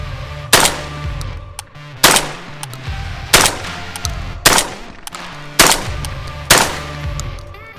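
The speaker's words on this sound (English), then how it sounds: "So first rounds through the Panzer M4. Unfortunately, all I have today is birdshot," A Panzer M4 semi-auto shotgun fires birdshot in six sharp, loud, evenly spaced blasts about a second apart, each with a short ringing decay, outdoors.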